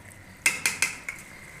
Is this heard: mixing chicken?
yes